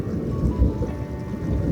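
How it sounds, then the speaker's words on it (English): Thunder rumbling and rolling over Center Basin in Kings Canyon National Park, California, a steady low distant roar that swells and fades slightly under dark clouds, with no voices. "you can hear the thunder still rumbling and rolling"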